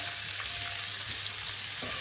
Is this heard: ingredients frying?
yes